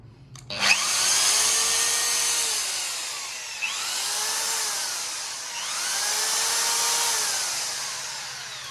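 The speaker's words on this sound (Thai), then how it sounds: "ใช้กับสว่านได้ แต่ว่าไฟตกนะครับ" An electric drill run on a 1600 W, 12 V pure sine wave inverter whirs up after a click, its pitch sagging and recovering in repeated surges as the power drops over several seconds, loud and close, no talking.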